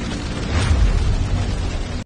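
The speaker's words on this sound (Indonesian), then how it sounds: "Tak lama gedung itu tiba-tiba meledak" A building blows up in an animated Chinese series, a deep rumbling boom that hits hard and rolls on as continuous roaring debris noise for about two seconds before cutting off abruptly.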